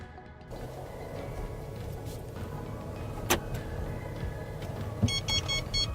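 A car on a test drive after calibration of a Movon MDAS9 driver-assistance system, with a steady interior road rumble, a sharp click near the middle, and a short run of electronic warning beeps toward the end.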